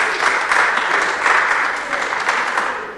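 Applause breaks out in a city council chamber, a steady burst of clapping from a small group that holds evenly for a few seconds with no speech over it.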